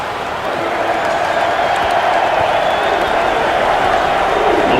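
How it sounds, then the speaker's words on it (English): A simulated basketball crowd in a college tournament game with a Jacksonville State fan base, cheering and applauding steadily as a broad, continuous roar that swells slightly after the first half second and stays loud throughout. "We hear that crowd. We hear that JSU fan base."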